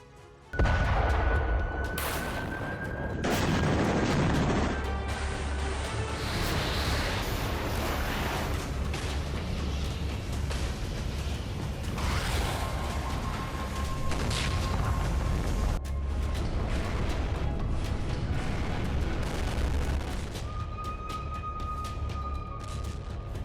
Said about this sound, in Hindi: डेडलाइन खत्म, धमाके शुरू।